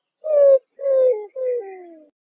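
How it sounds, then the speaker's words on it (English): A roadrunner gives three loud, close cooing notes in a slow series, each one sliding downward in pitch. "Roadrunner."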